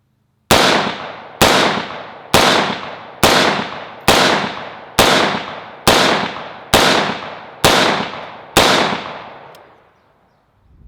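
Ten evenly spaced rifle shots from a BCM 14.5" SOCOM build at 50 yards on steel targets, each a loud sharp crack with a ringing decay, about one per second, ending in a fading tail.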